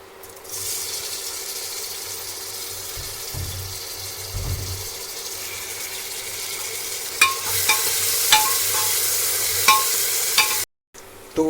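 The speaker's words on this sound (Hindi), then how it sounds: "तो इसके अंदर हमने जीरा डाल दिया है, प्याज डाल दिया और ये भुन रहा है।" Cumin and onions sizzle and fry steadily in a pan, with tomatoes added partway through, bringing sharp clinks of a spoon stirring against the pan toward the end; no talking.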